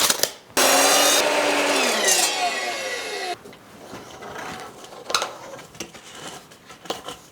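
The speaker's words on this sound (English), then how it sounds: "So I'm gonna cut about a 51-inch pipe for that." A power saw whines loudly for a few seconds as it cuts through a 51-inch plastic drain pipe, its pitch dropping under load, then stops, followed by light handling clatter and knocks.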